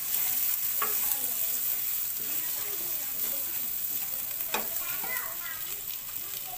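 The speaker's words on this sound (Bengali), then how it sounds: "আলুটাকে আমি আগে ভালো করে একটু কষিয়ে নিচ্ছি" Potatoes stir-fried in a pan at home, a steady close sizzle with repeated scraping strokes of a spatula against the pan.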